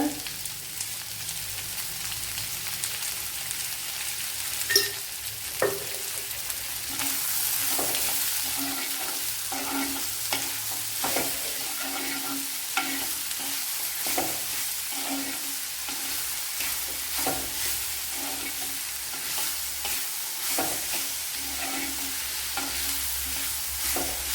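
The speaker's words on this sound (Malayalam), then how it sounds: "അങ്ങനെ പെട്ടെന്ന് വഴണ്ടിയിട്ട് കുറച്ച് ഉപ്പിട്ട് കൊടുക്കുക" Squid and cauliflower sautéing in a pan, a continuous soft sizzle with frequent scraping and stirring clatter from a utensil, close and moderately quiet, no voices.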